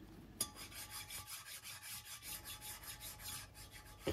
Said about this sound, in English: I can now file down the welds that span the crankcase joint